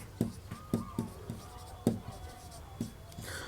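Chalk or marker taps and strokes on a board, sparse irregular clicks spaced about a half second apart, moderately close, with a soft voice faintly underneath.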